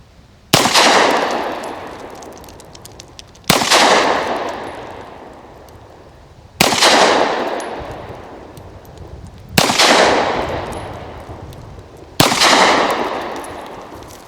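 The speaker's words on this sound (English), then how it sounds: "it's pretty darn accurate when you're shooting on target" Five loud, sharp pistol shots from a Zastava M57 Tokarev at a target range, evenly spaced about three seconds apart, each with a long ringing decay.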